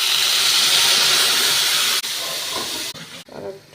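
Water splashed into a hot pan of frying potatoes, a loud continuous steamy hiss that holds steady for about two seconds, then breaks up and fades in choppy bursts.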